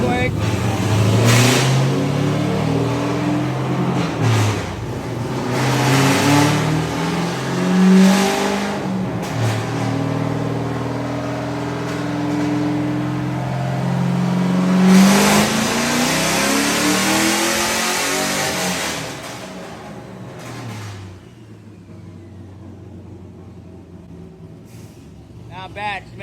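An LS-swapped Lexus IS300 engine revs loudly and steadily on a dyno, rising and holding through a long pull before dropping off near the end, with a voice occasionally heard over it.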